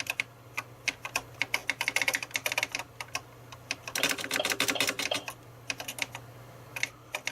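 Keys pressed on a BBC Master computer keyboard, a close, quiet run of rapid clicky taps in irregular bursts, busiest in the middle, with no talking.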